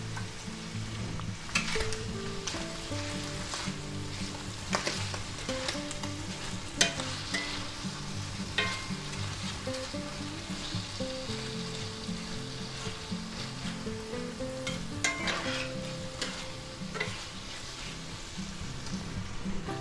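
Minced garlic sizzles in a pork lo mein stir-fry, a steady hiss with crackles and the scrape of stirring, close and continuous, while low tonal background sounds run underneath and no one speaks.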